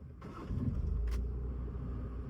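A car engine turns over and catches during hill-start clutch practice, a brief cranking burst followed by a low, steady idle rumble, fairly quiet and with no talk.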